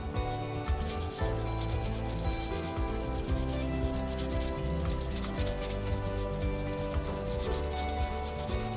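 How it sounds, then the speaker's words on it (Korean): Cotton swab rubbed across an artwork surface during an art-therapy session, giving a steady, close scraping and rubbing texture that continues without pause and with no talking. "그리고 면봉으로 이렇게 문지르면은 뭔가 닦여지면서 또 새로운 느낌이 납니다."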